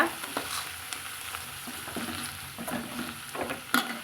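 Thuthuvalai leaves sautéed with tamarind and salt in a pan, a soft continuous sizzle with scattered scraping and stirring knocks, growing slightly busier toward the end, with no talking.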